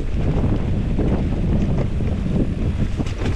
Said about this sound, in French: Ah, là c'est venté, il y a du vent là.